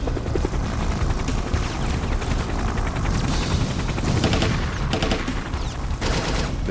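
Rapid machine gun fire rattles in sustained bursts over the steady thrum of a helicopter during a fast-rope assault in Grenada, loud and dense throughout.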